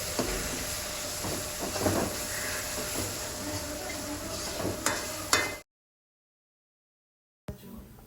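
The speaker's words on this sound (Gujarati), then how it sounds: "આપણે જે ટામેટાં રેડી કર્યા હતા તે ટામેટાને પણ અંદર નાખી દેવાના" Chopped tomatoes go into a frying spinach mixture for dhaba-style palak paneer, giving a steady broadband sizzle with scraping stirs for about five seconds before cutting to silence.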